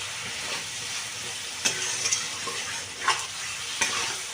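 Potato and kohlrabi curry is sautéed in a pan with a soft, steady sizzle and occasional sharp spatula knocks against the pan, quiet and close.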